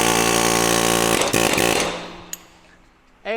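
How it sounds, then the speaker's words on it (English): Pneumatic air chisel hammering out the axle of a Land Rover LR4 lower control arm, loud continuous rattling for nearly two seconds that stops abruptly, followed by a metallic clink and quieter shop noise. "So what we'll do, we'll just center our air chisel."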